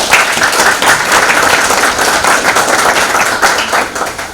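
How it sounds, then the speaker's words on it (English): Audience at a panel discussion gives the panelists a round of applause, a loud, continuous patter of many hands clapping that holds steady for several seconds without any speech over it. "So let's thank all the panelists and give them a round of applause."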